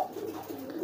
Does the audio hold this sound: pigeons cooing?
yes